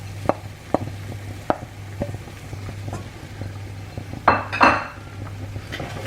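Onions are tipped back into a pan and stirred for a low-syn Indian side dish, giving sparse clinks and knocks of a utensil against cookware over a low steady hum, with no talking.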